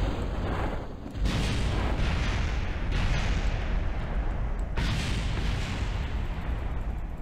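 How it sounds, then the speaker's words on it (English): A video game explosion lands near the tip of a hill, a broad, loud rumble with sharp bursts at about one, three and five seconds over continuous low roaring. "I exploded, you see."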